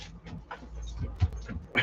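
Two dogs on a patio whimper and pant in short, soft bursts close by, with a few faint yips and no talking.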